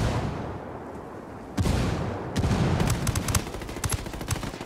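Automatic gunfire in the video game Ghost War from a full-auto M9, rapid cracking bursts close by over a dense, noisy game background, growing busier in the second half.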